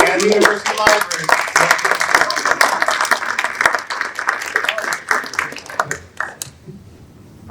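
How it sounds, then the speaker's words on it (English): Audience applause for a panel at a 2024 election discussion event, a burst of many hands clapping under overlapping speech that thins out toward the end. "we're all gonna have a round of applause for our panelists today"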